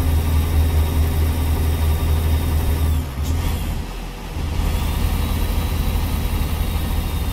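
A Cat 3306 diesel in a Peterbilt 357 climbs a grade in American Truck Simulator, a steady loud low engine drone that dips briefly mid-clip, as during a gear change, then resumes at full pull.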